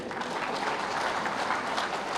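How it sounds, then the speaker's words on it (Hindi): Sustained applause from a big audience fills a political rally in Jharkhand addressed by Shivraj Singh, many hands clapping in a thick, even roar with no speech over it. "फिर एक बार ताली बजाओ त्रिदेव के लिए भी"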